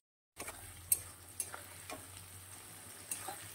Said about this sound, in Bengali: এখন একটু ভাজা হবে